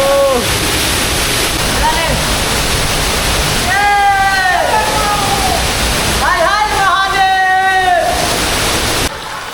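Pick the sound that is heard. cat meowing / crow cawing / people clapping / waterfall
waterfall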